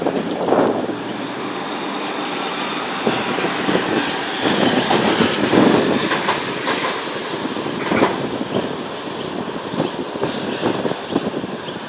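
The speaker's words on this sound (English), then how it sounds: "We have a Explorer passing platform number 1." An Explorer passenger train passes the platform at Tempe station in Sydney, its wheels and cars rumbling steadily and loudly with rail clatter and faint squeal for the whole span.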